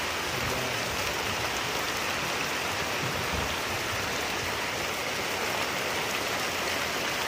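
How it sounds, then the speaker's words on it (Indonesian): Heavy rain falling outdoors beside a parked bus, a dense, steady hiss of downpour that stays constant throughout with no voices. "ini hujan sudah mulai turun, kelihatannya sih lumayan deras"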